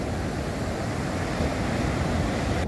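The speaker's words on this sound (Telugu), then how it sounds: "అమావాస్య రోజులు కావడంతో సముద్రం మంచి కోటి మీద ఉంది." Sea waves roll in at Ramapuram beach near Chirala, Andhra Pradesh, at high tide, giving a loud, steady rushing surf with wind noise and no break.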